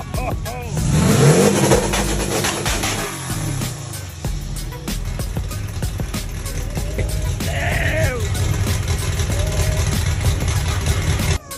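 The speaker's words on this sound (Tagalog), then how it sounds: "Ayun, mga turbo. Super bao, tol. May exhaust." A turbocharged Volkswagen Beetle with a loud exhaust revs hard nearby at a race event, its engine roaring and fluctuating with sharp rising bursts. People shout and talk over the noise.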